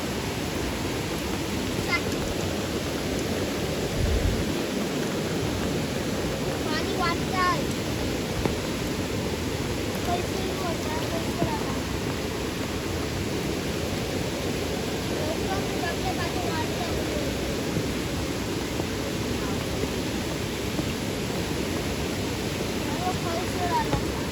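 In rural Konkan, rising floodwater after rain pours on in a constant, full-bodied rush that continues unbroken for a long stretch, with occasional voices talking over the flow.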